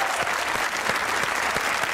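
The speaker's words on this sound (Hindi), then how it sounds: "तालियां होनी चाहिए" A studio audience at a comedy talk show applauds in a steady, loud wash of clapping, with a few sharper individual claps standing out.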